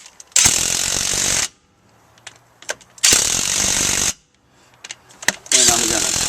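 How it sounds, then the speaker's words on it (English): Ratcheting torque wrench tightening brake bolts on a Dana 70 dually rear axle of a 1978 Dodge RV, three loud sustained bursts of metallic clicking separated by short quiet gaps with faint handling noises. "And I'm going to torque it down."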